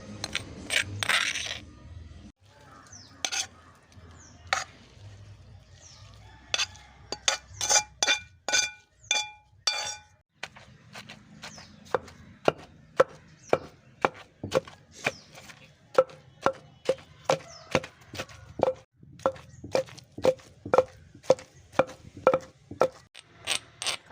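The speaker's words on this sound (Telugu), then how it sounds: "గోంగూరని దంచుకోవాలి" Gongura (sorrel) leaves are pounded for chutney with sharp, repeated strikes. The blows come in quick rhythmic bursts with short pauses, close by and fairly loud, with a faint clinking edge.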